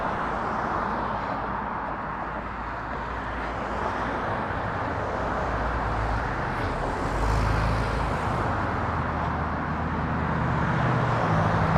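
Steady city traffic in Las Vegas's Chinatown, cars including a Tesla rolling past in a continuous low roadway rumble, with a slightly louder vehicle swelling by midway and the hum building again toward the end.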